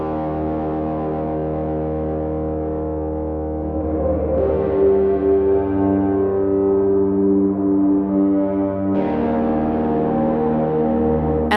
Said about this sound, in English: So I'm gonna plug my Harpist bass pickup into these,